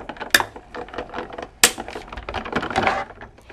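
A Cuttlebug die-cutting machine presses paper between plates, its crank giving a steady run of close clicking, ratcheting mechanical sounds with two sharper snaps, and no voices.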